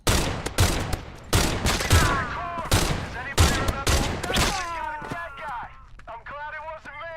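Repeated bursts of AK rifle gunfire in a shooter game, loud and near, firing in short rhythmic volleys, with voices and radio-like chatter in between.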